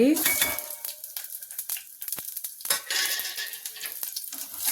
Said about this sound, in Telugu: నూనె వేడయ్యాక ఒక స్పూను ఆవాల జీలకర్ర అలాగే రెండు ఎండుమిరపకాయలు అవి వేగాక ఒక ఉల్లిపాయ